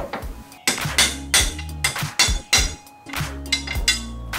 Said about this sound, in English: I push them through just to protect the threads while I use the big hammer.